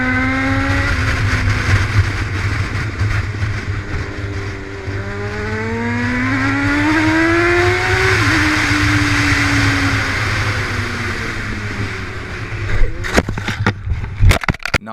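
A motorcycle ridden fast roars past with a loud, sustained engine whine whose pitch climbs and dips through gear changes, close and continuous, ending in a brief burst of sharp clattering noise.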